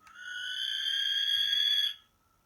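A barn owl's screech call at night: one drawn-out, harsh, high-pitched shriek lasting almost two seconds, fairly loud and close, then cutting off into near silence.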